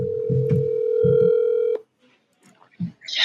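A phone call on speakerphone plays a steady dial tone with short touch-tone beeps, then cuts to silence before faint rustles and a brief voice.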